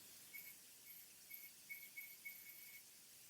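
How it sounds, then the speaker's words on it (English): Faint, high-pitched electronic chirps from an HTC One M8 phone's laser autofocus repeat in quick short bursts against quiet hiss, a tiny device-like ticking. "That is the sound of the laser autofocus."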